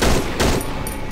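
Close, loud gunfire in the video game Cry of Fear, two quick bursts of shots within about a second.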